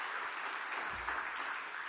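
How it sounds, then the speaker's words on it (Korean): Church congregation applauding a women's choir, soft steady clapping for a couple of seconds, fairly distant and faint. "이번엔 우리 중창단 위해서 박수 한번 해주십시오"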